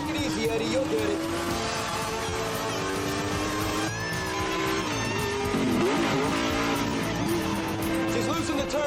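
A race car roars at sustained high revs along a straightaway, its dense engine note loud and continuous with a brief tire squeal, while voices speak over it.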